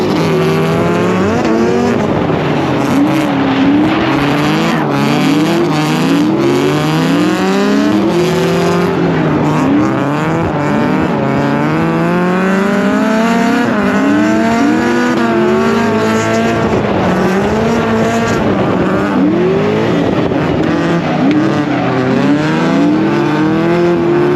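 Drift cars in a tandem battle at a Black Friday drift competition roar close and loud for the full stretch, engines revving and wailing up and down in repeated waves, with tire squeal running through.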